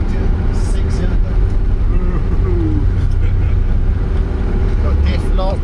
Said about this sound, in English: Bulletproof Volvo motor, 6-cylinder.